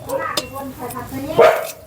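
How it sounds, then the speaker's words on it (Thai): A dog barks in short bursts at close range, with people talking around it outdoors. "ขาวดำคือเห่าดีเถอะ"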